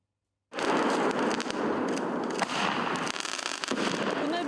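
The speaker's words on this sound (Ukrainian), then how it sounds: "горить, димить, стріляє, вибухає" Dense crackling gunfire and sharp bangs erupt suddenly after a brief silence at a military training ground, continuing steadily with scattered louder pops.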